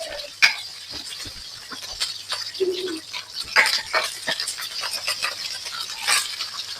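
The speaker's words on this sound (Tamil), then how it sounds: "எண்ணெய் சூடாகிட்டு நான் கடுகு ஒரு தேக்கரண்டி போட்டுக்கொள்கிறேன் சீரகம் ஒரு அரை தேக்கரண்டி போட்டு கடுகு சீரகம் பொறிஞ்சு வரைக்குள்ள" Mustard seeds and cumin spluttering in hot oil, sharp scattered pops and crackles over a low sizzle, with occasional utensil clinks against the pan.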